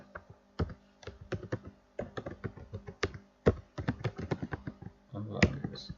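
Python code being typed on a computer keyboard: a rapid, uneven run of close key taps and clacks with short pauses between bursts and a heavier clatter near the end.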